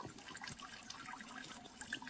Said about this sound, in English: and you can hear this water running.